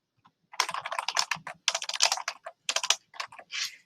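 Typing on a computer keyboard in quick irregular clusters of close, crisp key clicks, broken by short pauses, with no voices.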